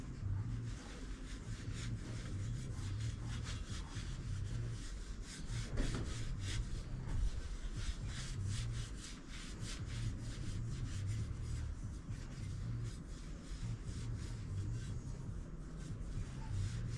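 A brush rubs steadily back and forth across a surface while polishing a Y2K Dyno GT bike, giving a soft continuous scrubbing hiss with fine repeated strokes at low level.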